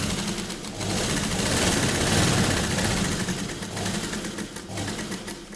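A sewing machine runs steadily, stitching along the edge of a child's Patiala dress, with a continuous whirring hum that rises and falls slightly and a brief voice speaking at the start.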